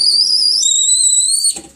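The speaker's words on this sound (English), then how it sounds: "We got some boiling water, just gonna bring it back to the whistle." A kettle whistles with a loud, steady shrill tone as the water boils, rising slightly in pitch midway, then cutting off abruptly near the end.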